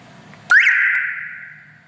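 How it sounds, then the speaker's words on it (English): An aftermarket car alarm siren on a car with a VW flip key blares suddenly with a rising chirp, then holds a loud piercing tone that slowly fades. "And you can hear a siren. Makes a very loud sound"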